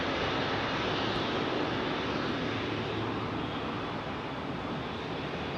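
An Egypt Air jet with Rolls-Royce RB211 engines departs Heathrow, a loud, steady broadband engine roar that fades slowly, with no voices.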